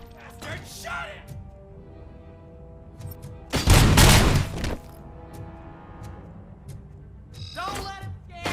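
Gunfire in the RoboCop: Rogue City video game bursts out as a loud, dense volley for about a second, flanked by shouted talk and softer game noises and alarms.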